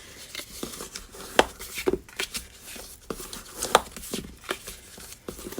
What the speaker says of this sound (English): I'm burnishing all those score lines on both the box and the lid